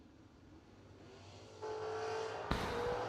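A drag race car's wheels-up launch, a distant engine rising to a louder roar, then a sudden sharp burst as the car leaves the line and revs hard.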